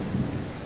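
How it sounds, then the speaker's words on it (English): Thunder rumbles low and distant amid a steady wash of rain, a brief soft roll with no sharp crack. "the sound of thunder echoed off in the distance"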